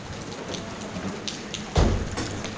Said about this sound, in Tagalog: Tag-ulan sa buwan ng Abril.